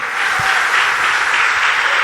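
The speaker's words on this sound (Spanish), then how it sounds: "Denle un aplauso al Señor." Church congregation applauding after a sermon, a steady dense wash of clapping that fills the whole two seconds at moderate loudness with no voices on top.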